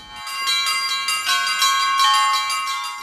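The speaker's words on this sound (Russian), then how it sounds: "Именно с его колокольни теперь ежедневно по окрестностям разносится мелодичный звон" A church bell rings loudly and repeatedly from a church bell tower in Sochi, its rich metallic tones overlapping and sustaining in a steady melodic peal.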